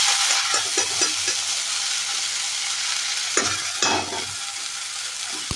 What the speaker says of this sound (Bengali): এটাকেও আমি একটু ততক্ষণ ধরে ভেজে নেবো যতক্ষণ কাঁচা গন্ধটা না বেরোনো বন্ধ